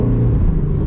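A Shelby GT350 Heritage Edition with a flat-plane-crank V8 revs hard, a loud, close, sustained engine roar lasting under a second with no talk.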